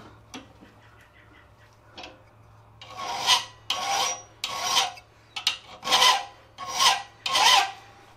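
Hand filing on a metal planishing foot chasing tool clamped in a vise: after a couple of faint scrapes, a series of six or seven loud, even rasping strokes, each about half a second long with short pauses between.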